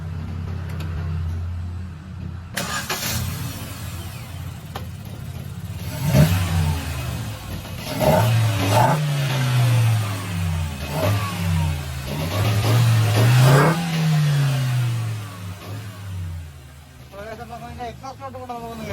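Maruti WagonR engine fitted with a performance air filter, heard cranking and starting, then settling to idle and rising through several loud revs with a deeper intake note while people talk over it.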